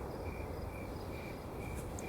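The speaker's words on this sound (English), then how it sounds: "there are crickets chirping throughout all of it" Crickets chirp steadily through a nighttime movie scene, a soft continuous high trill repeating at a quiet level over a low background hum, with no talk.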